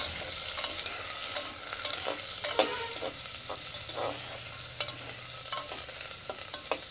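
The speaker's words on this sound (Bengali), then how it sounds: "একটু হালকা হালকা লাল লাল করে ভাজবো, বেশি লাল বানাবো না" Onion, ginger and dried red chili frying in oil over whole spices, a steady close sizzle with scattered crackles and occasional stirring clicks, no voices.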